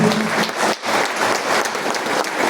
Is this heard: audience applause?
yes